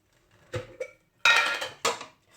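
Several clinking strokes of a utensil against a bowl as rice water cleanser ingredients are stirred together, quiet taps followed by two louder, sharper scraping clinks.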